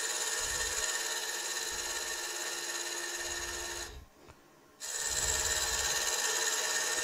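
A wood lathe turns down a mallet blank, a steady motor whine under intermittent scraping rasps of the tool on the wood, with a brief dip near the end where the cutting stops before resuming.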